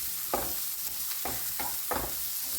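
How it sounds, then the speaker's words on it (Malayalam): Chopped onion and garlic sautéing in a pan, with a steady sizzle under four or five short scraping strokes of a spoon stirring them, close up. "സവാള ചെറുതായിട്ടൊന്ന് വഴണ്ട് വരുന്നത് വരെ നമ്മൾ ഇത് രണ്ടും കൂടെ ഇളക്കി കൊടുക്കുക."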